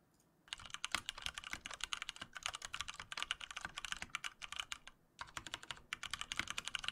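Steady typing on a mechanical keyboard fitted with Cherry MX Brown switches, a dense run of close, crisp key clacks with a brief pause near the middle, heard alone without talk.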